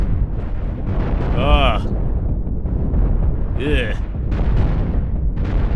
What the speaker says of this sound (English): look at the heavy cannons just eating through what's left of the Confederate armor